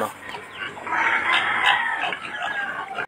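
Rhode Island Red chickens cluck around eggs that are starting to hatch, with a steady run of nearby hen clucks and calls that rises and holds over a few seconds after a rainy afternoon.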